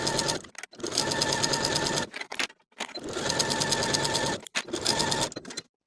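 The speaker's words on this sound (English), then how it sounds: "Sew each of your side seams with a 1/2 inch seam allowance." A sewing machine stitches T-shirt side seams at a 1/2 inch seam allowance, running in fast, steady bursts of rapid needle clatter with brief pauses between runs, close and loud.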